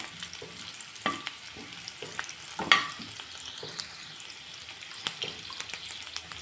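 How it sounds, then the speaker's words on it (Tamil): Garlic and green chillies fry lightly in a pan, a soft sizzle under repeated close spoon scrapes and taps against the pan. "பூண்டு, பச்சை மிளகாவும் சேர்த்துக்கிறேன். 3 லைட்டாக ஃப்ரை ஆகட்டும்"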